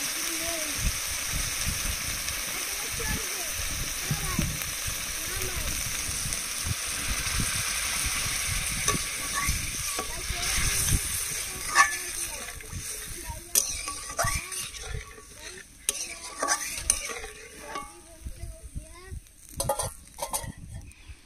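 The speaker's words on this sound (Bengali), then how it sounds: "তরকারির ঝোল ফুটে উঠেছে" Curry broth made with coconut milk and water boils in a pan for a Bengali stuffed pointed gourd dish, giving a steady close bubbling hiss that turns into sporadic pops and crackles.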